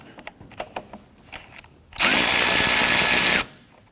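A power tool spins off the 10mm battery ground terminal nut on a 2017-2020 Hyundai Elantra in one loud, steady whirring burst of about a second and a half, after some faint handling clicks.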